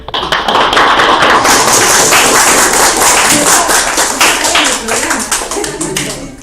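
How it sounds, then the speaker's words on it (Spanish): A gathering at a book presentation breaks into loud, close applause, with crisp individual hand claps building quickly into a dense, sustained ovation that eases slightly toward the end. "Un aplauso."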